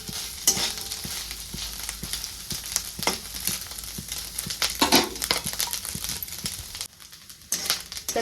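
Grated coconut stirred and fried in oil in a pan, a close, steady crackling sizzle broken by repeated spoon scrapes, briefly dropping quiet near the end, with no talking.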